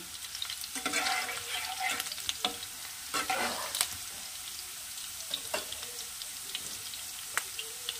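Potatoes fry in a pan for an egg dish, a steady sizzle broken by repeated scraping stirs of a spatula, close and moderately loud with no voices.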